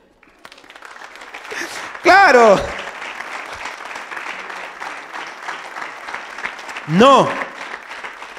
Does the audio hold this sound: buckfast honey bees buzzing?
no